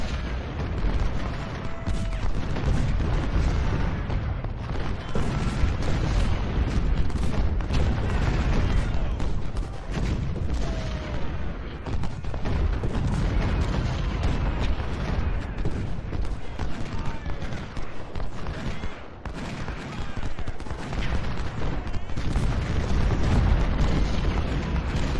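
Continuous artillery and rifle fire in the Civil War battle game Ultimate General: Civil War, a dense roll of booms and crackling volleys that goes on without pause, with a voice speaking briefly over the din.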